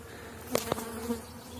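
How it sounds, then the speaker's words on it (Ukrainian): Agitated honeybees buzz around after hive inspections, a couple of sharp close passes standing out over a faint steady hum. "Бджола дуже зараз така збуджена, бо всі вулики переглядав."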